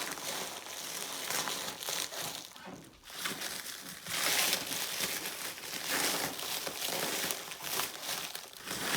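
Cardboard packaging is crinkled, torn and shifted while a box of airsoft gear is unpacked, giving close, continuous rustling with louder bursts of crumpling and brief pauses.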